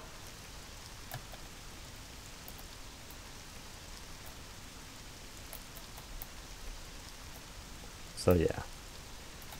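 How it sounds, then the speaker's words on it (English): Heavy rain falls in the modded GZDoom video game, a steady dense hiss of downpour throughout, with a brief louder burst near the end and a voice speaking briefly. "Let's just say it's raining heavily"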